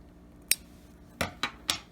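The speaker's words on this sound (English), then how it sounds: "So I'm going to go ahead and cut this off here." Scissors snip crochet yarn: four crisp, close cuts, one alone and then three in quick succession.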